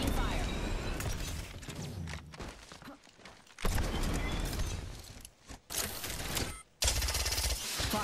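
Dense gunfire in a multiplayer shooter video game: loud, rapid bursts of automatic fire and explosions that keep breaking off into brief lulls, then resume at full strength.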